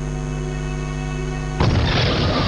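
A single loud, sudden blast cuts through a steady droning hum and leaves a rough, rumbling wash of noise trailing after it.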